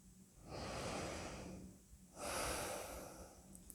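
A person breathes deeply: two long, close breaths, each a broad airy rush lasting over a second, separated by a short quiet pause.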